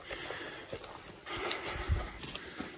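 Hooves of a horse clop at an uneven walking pace in the Chernobyl zone near the Duga antenna, against constant outdoor background noise.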